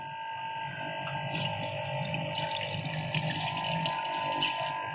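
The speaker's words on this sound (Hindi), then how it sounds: "अब इसके अंदर हम डाल देंगे पानी।" Water poured into a karahi pot of beef cooking at home, a steady continuous splashing stream that runs alone and close for the whole stretch without a break.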